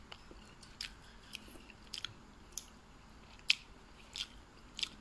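Someone eats sun-dried fish with sticky rice, producing quiet, close crunchy bites and chewing clicks at irregular intervals against a soft background.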